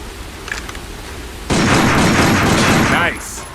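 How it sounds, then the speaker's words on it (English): Handgun fire at a sign in the video game Binary Domain, a loud sustained burst of shots with a broad crackling roar lasting over a second, close and dominant after a quieter stretch of game ambience. "Take out your handgun and try shooting that sign"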